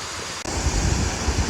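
The waterfalls of Krka National Park in Croatia give a brief, steady, broadband rushing roar of falling water that swells after a short dip.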